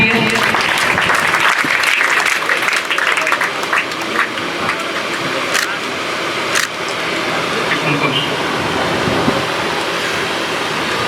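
Audience at a school Teachers' Day celebration gives loud applause for award winners, a sustained dense clapping that stays strong throughout with occasional sharper claps and faint voices beneath.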